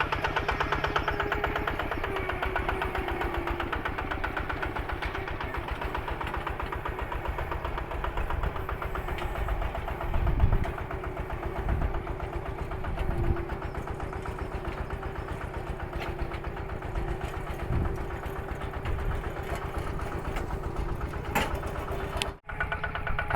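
A tractor engine runs steadily while pulling a three-disc plow through hard, dry soil, a continuous loud mid-pitched drone with a few dull thumps and no talking over it.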